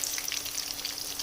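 Green chillies deep-fry for pakoras in a steady, dense sizzle of hot oil with fine crackling bubbles throughout and no talking.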